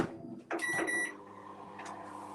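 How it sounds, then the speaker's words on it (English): A microwave oven heating white chocolate gives a short beep and door clunk, then settles into a low steady running hum. "a minute in the microwave"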